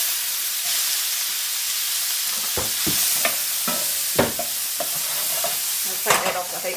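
Onions sweating in a very hot pan with butter and a pinch of salt, a steady hissing sizzle with several sharp scraping stirs and clacks, close and fairly loud, without any talking.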